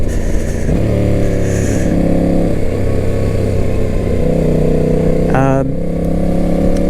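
Honda CRF 300L, a 300cc dual-sport motorcycle, running loud and close with a steady engine drone that shifts pitch through gear changes, ending in a brief rev, while a voice talks over it.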